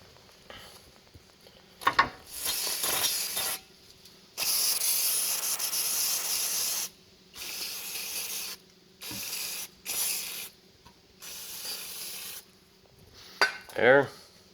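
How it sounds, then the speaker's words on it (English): Bursts of aerosol brake cleaner spray hiss against a dirty Ford F150 front hub part, broken by short pauses, with rubbing and scrubbing noises and a few metallic clinks between them. "you can use a little bit of brake clean on this, so wash the dirt and stuff away."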